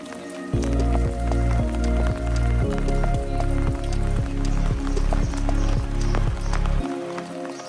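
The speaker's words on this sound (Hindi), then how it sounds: "यहाँ पे इतनी तेज बारिश चल रही है" Heavy rain pours in a steady broadband hiss in a hill town in Uttarakhand, with regular heavy thuds repeating under it before the sound cuts off.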